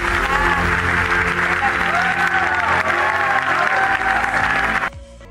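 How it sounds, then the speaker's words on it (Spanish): Studio audience applause on a reality TV show runs steadily under music and voices, then cuts off abruptly near the end. "Hombre, ese aplauso para Marta."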